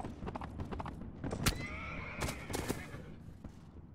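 Horse in Mount & Blade: Warband, with clattering hoofbeats leading into a loud, close whinny that rises and wavers for about a second. Scattered combat clicks and thuds surround it.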